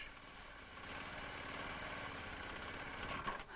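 A motorbike engine from a 1970s rider training film runs at a steady, close drone, swelling slightly near the end as it is revved during a clutch start before it stalls.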